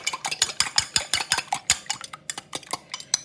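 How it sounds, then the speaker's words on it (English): Quick, regular clinks and taps of a utensil beating egg and milk together in a jug, close and crisp, a steady whisking rhythm with no talk. "Beat your egg and milk together"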